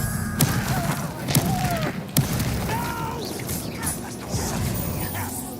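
Hogwarts Legacy combat with the Expelliarmus spell: sharp magical thuds and crashing impacts burst out at intervals over a busy, whooshing game soundscape, with brief whistling sweeps between the hits.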